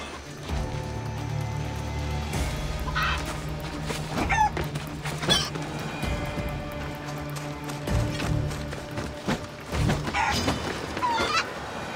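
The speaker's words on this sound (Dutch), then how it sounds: "Kippen, hele boze kippen." Angry chickens attacking in the video game Assassin's Creed Odyssey, repeated clucks and squawks over game background noise, with sharp hits and rustling scattered throughout and no speech.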